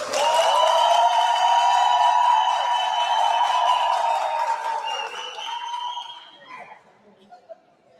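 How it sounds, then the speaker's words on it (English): A workshop audience bursts into a loud, dense round of applause that holds steady, then thins into scattered claps and fades to near silence, with voices mixed into the crowd. "I want to hear your version of a round of applause to welcome a speaker onto the stage."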